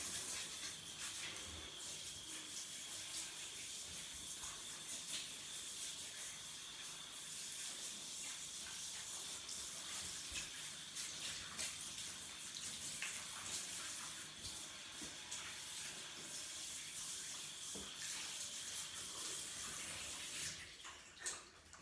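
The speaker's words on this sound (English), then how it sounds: "Turn on the shower." Shower running steadily, a dense continuous hiss of spraying water in a bathroom while hair is wetted, with no talking and a brief shift near the end.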